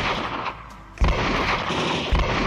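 Heavy gunshots ring out in the VR shooter Low-Fi, two loud booming reports about a second apart over a dense rumbling game soundscape, close and forceful.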